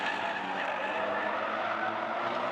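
A Honda City Hatchback one-make race car brakes hard and skids with a wheel fault, producing a steady, loud roar of tire and engine noise that persists throughout with no talk.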